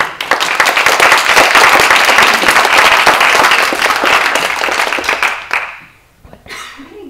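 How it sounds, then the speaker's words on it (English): Audience applause for library board candidates at a meet-and-greet, loud and dense clapping from a crowd that holds steady for about five seconds before dying away, followed by a faint murmur. "Let's give them a round of applause"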